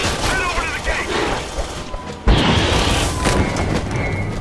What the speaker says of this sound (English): Man, those acid explosions, guys.